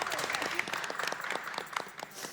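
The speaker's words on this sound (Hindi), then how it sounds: "तालियां हो जाए भाई।" Studio audience applause on a Ramadan cooking competition show, a moderately quiet, steady patter of many hands with a few sharper individual claps standing out near the end.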